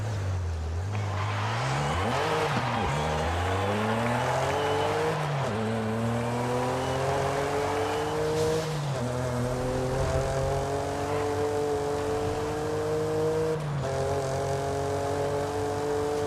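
An S1-class race car on race tires in Forza Horizon 5, its engine droning and rising through repeated gear changes, pitch climbing then dropping at each shift, close and steady with no break.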